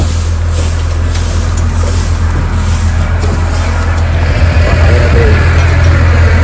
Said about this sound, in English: Slices the round bale in half, goes right on the front of my tractor, hydraulic cylinder to slice it.